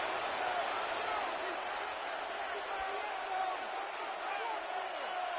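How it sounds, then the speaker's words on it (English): A dense, steady roar from a football stadium crowd during a Lions game before third and goal, heard loud and unbroken, with an announcer speaking faintly over the noise. "This crowd doing everything they can before 3rd and goal."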